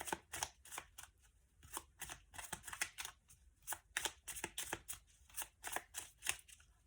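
An oracle card deck, the Petit Colibri oracle, being shuffled by hand in a steady run of crisp, papery riffling bursts, close and fairly loud, with no talking.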